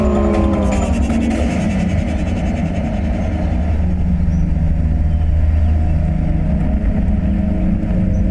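A car's engine hums and builds as the vehicle pulls away, a loud continuous drone with rising tones and no voices on top.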